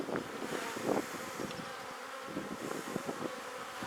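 Honeybees buzz continuously around an open hive during an inspection after a colony split, a close, dense hum with a faint rustle of the frames.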